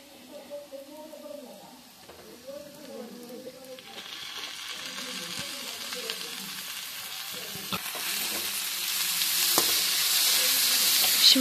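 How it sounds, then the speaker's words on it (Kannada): Chicken sukka frying with tomato in a pan, a steady sizzle that grows louder and brighter toward the end, with faint voices and soft background noise underneath. "ಇಷ್ಟು ಫ್ರೈ ಆಗಿದೆ, ಇನ್ನೊಂದಕ್ಕೆ ಟೊಮೆಟೊ ಹಾಕೋದು."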